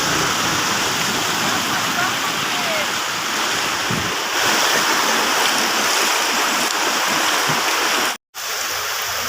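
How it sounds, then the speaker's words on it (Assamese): Loud, continuous rushing water fills the scene, a steady broadband roar like a fast flow, with a brief dropout near the end. "এয়া পানী, সম্পূৰ্ণ পানী। চাওক কেনেকৈ পানী হৈছে।"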